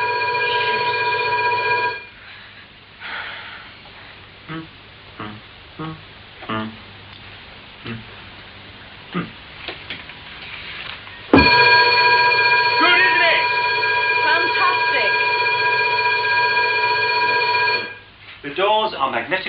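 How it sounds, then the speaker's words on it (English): A burglar alarm bell rings loudly in two long continuous bursts, separated by a stretch of talking and clattering, with voices speaking over the ringing. "He's got alarm fitted."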